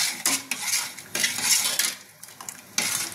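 A spoon scrapes and clinks against a pot while stirring sugar into sweet payasam, in a series of close, uneven strokes with short pauses between them.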